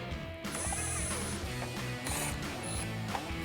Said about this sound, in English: We'll use our flathead bit to tighten ours down.